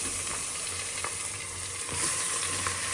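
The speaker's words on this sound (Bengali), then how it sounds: "পেঁয়াজটা ভাজা হয়ে গেছে আমি দিয়ে দিচ্ছি মশলা" Loud, continuous sizzling of onions and spices frying in hot oil, with occasional scraping stirs; no voices.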